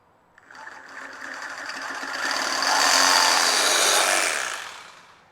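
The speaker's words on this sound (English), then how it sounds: "try to use a Sawzall. See how the cuts come out." Sawzall reciprocating saw cutting through a custom dual exhaust pipe on a 1955 Chevy 3100 pickup, a close, rising buzzing rasp that builds in loudness, holds for a couple of seconds, then tapers off as the cut finishes.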